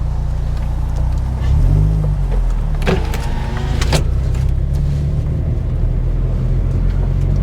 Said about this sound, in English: That AC blowing.